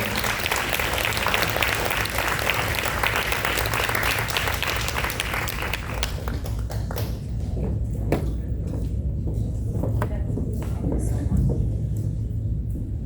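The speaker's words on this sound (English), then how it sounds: "Please join me in giving a warm round of applause to two great giants in our Jewish community, Michelle and Vered." An audience at a community event gives a warm round of applause, dense and steady clapping that fills the room, then thins out into scattered claps.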